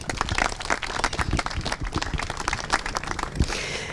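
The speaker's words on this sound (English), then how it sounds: "Perhaps a round of applause, please, for our beautiful families." A wedding crowd claps warmly: dense, continuous applause from many hands, fairly close, lasting several seconds before thinning slightly at the end.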